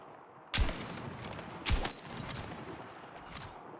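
Two sharp sniper rifle shots in a combat video game crack about a second apart, each trailing a fading echo, followed by fainter distant pops.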